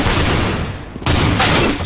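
Loud bursts of rapid gunfire in Counter-Strike: Global Offensive, two dense volleys of close shots separated by a brief pause, with no talking over them.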